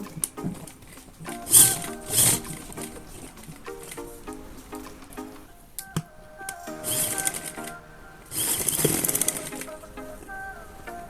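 Fabric triangles are stitched together for a dress neckline on a sewing machine, which runs in short rattling bursts with pauses between, close and fairly loud, with some cloth handling in between.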